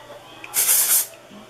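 A single short dry shampoo aerosol spray hisses for about half a second, close and loud, with quiet surroundings before and after.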